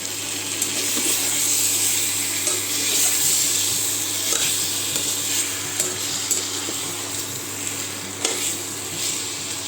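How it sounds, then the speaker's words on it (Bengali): Potatoes fry with spices in a pan, a steady close sizzle broken by repeated scraping strokes of a spatula stirring them, with faint clinks of cookware and no speech. "দেখো মশলার সাথে আলুগুলো বেশ সুন্দর হয়ে কষে গেছে"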